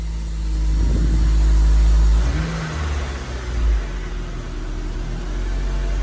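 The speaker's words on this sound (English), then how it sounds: "Type R exhaust. Cold start, very cold start. Hasn't been started in about a month" A car fitted with a Type R exhaust cold-starting after sitting unused for about a month, giving a loud low rumble and rev that swells then settles into a steady idle with no talk over it.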